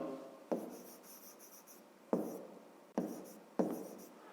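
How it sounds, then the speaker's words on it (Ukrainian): Pen strokes scratch across paper as numbers are written, in a few separate bursts with short pauses between them. The strokes are close and fairly quiet, with no voice over them. "Записуємо тоді, отже,"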